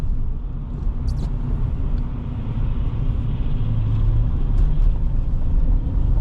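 A 2025 Chevy Silverado 1500 LT pickup cruises at highway speed, and from inside the cab a steady, loud low road rumble and engine drone holds throughout with no one speaking.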